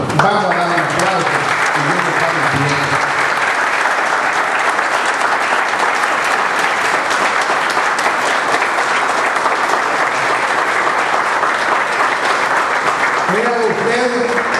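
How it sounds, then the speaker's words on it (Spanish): Sustained applause from an audience at a lecture on the Restoration of the Republic, loud and steady for the full stretch, with brief voices audible at the very start and end. "Por favor, vamos a darle un aplauso."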